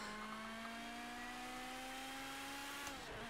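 Porsche flat-eight race car engine in Project CARS 2, a steady high-pitched drone holding nearly level with a slight rising pitch, then cutting off abruptly near the end, heard alone at moderate loudness.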